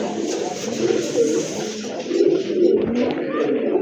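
Fresh white pigeons, offered at a pigeon market, coo in low, throaty rolling calls, several overlapping at close range, steady over a few seconds with faint background noise.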